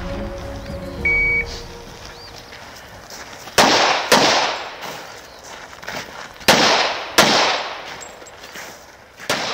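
Pistol shots ring out on an IDPA defensive shooting stage at a Mecklenburg Wildlife match, five or six sharp, loud cracks in irregular pairs, after a brief electronic beep start signal.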